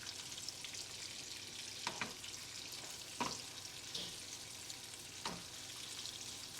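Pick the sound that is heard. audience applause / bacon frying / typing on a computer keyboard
bacon frying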